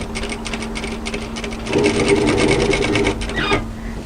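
A sewing machine stitches a roll along a camisole V neckline in quick, steady runs, close and clear, growing louder and faster midway before easing off.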